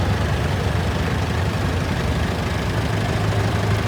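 A 1975 Massey Ferguson 14 garden tractor with a 14-horsepower engine runs steadily at a parade, its close, even engine drone continuous and unbroken under outdoor noise.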